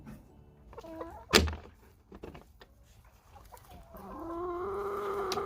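Backyard laying hens cluck and call near a favored sitting spot, with a sharp thump early on and a rising, sustained chorus of clucking toward the end.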